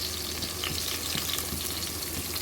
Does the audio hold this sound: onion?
yes